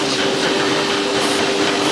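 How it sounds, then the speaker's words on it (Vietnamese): Power drill boring deep into a knife handle in a knife-making workshop: a steady, loud whirring drone with a sustained tonal whine that continues without a break and without speech. "Khoan thật sâu nha mọi người nha"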